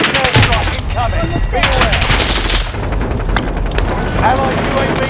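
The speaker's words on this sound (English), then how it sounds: "Allied airstrike incoming." A video game airstrike rains down. Rapid gunfire and explosions roll in a loud, dense barrage, and battlefield voices and chatter run over it.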